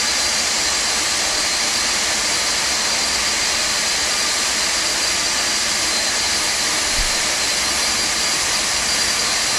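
A Boeing 747-200 engine starting up inside a flight simulator gives a steady, loud, broadband jet roar with a high whine, heard alone and unbroken throughout.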